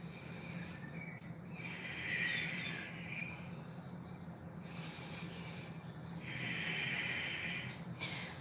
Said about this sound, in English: Pause for 3 breaths.